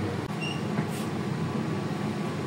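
Interior of a Pasundan economy-class train carriage with a steady low rumble and air-conditioning hum, a brief knock near the start and a faint hiss partway through, no talking.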